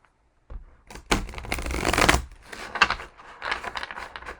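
A deck of tarot cards being shuffled by hand, close up: a run of crisp riffling and flapping bursts over about four seconds with short pauses between them and no talking.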